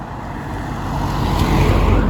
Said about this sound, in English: Just have to watch where you're walking because there's still cars coming in.